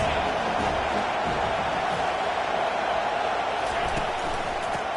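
A roaring football stadium crowd makes noise to disrupt the offense, a dense, steady wash of cheering and shouting that holds at an even level for the whole stretch.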